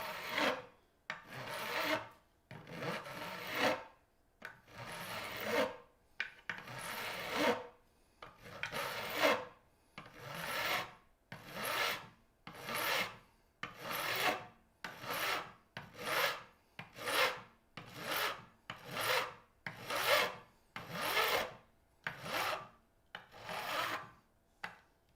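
Guitar frets on the neck of a 1982 Gibson SG are sanded in long, steady rasping strokes, about one a second, each a soft scratchy swish close up with short pauses between and no talk.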